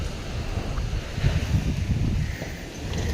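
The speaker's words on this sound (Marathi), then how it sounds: "मित्रांनो लई जोराचा वारा सुटलाय." Strong wind gusting on a rural rooftop, a rough, buffeting roar that swells and fades in uneven surges, heard close to the microphone.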